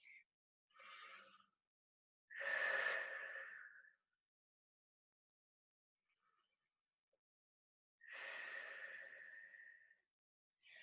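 Deep breaths during rest in a chest, back and shoulders fitness class: two long, close, airy inhale-exhale breaths, each a couple of seconds long, with quiet pauses between.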